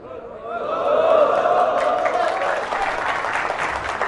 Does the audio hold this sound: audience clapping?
yes